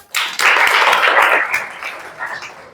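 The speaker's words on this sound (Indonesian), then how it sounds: "Tepuk tangan dulu dong." Students in a classroom guidance session clap together in a short, close burst that swells quickly, then thins into scattered claps before fading.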